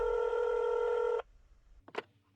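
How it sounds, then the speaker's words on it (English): A telephone being dialed: a steady, loud electronic tone holds for about a second, cuts off, and is followed after a short gap by a brief tone burst. "I'm already dialing."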